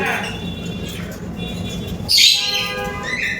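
A large caged bird lets out a harsh, loud squawk amid chirps and rustling at a bird farm, with a person talking throughout.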